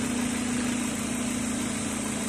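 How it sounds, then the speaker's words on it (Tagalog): A Mazda Lantis engine idling with its auxiliary radiator fan running, a steady close whirring hum with a constant drone and no variation. "Umandar na yung auxiliary fan niya"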